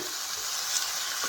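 Spiced masala hisses and sizzles steadily in hot oil while being stirred in a pan for a jackfruit (kathal) and egg curry, a close, continuous frying sound with no talking.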